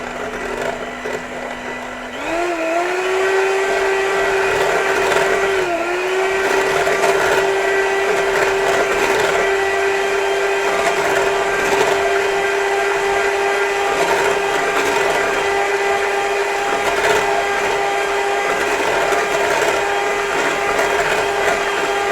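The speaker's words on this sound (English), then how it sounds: "so mixer, just get caught up in all the wires, and we'll just give it a mix" A kitchen electric mixer whirs steadily as it blends homemade ricotta, its motor pitch dipping briefly as it starts up and then holding a loud, continuous whine for the rest of the clip, with no talking.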